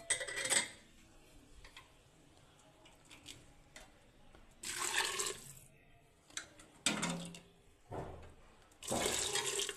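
Water poured from a vessel into a pot of fried rice for khichuri, a few splashing pours in separate bursts with quiet clinks and kitchen movement between them.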